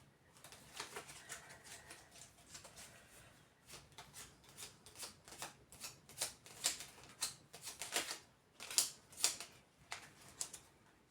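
Gaia oracle cards are shuffled by hand, giving a close series of papery riffles and soft flicks. The bursts come in uneven clusters that grow busier and louder toward the end, with no talking.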